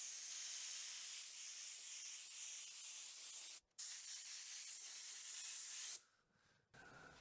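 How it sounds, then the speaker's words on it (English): White primer is sprayed onto a Silverado truck door in long steady hisses from a spray gun, close and fairly quiet, broken by a brief gap near the middle and a longer pause toward the end. "Now I'm going to apply some white primer."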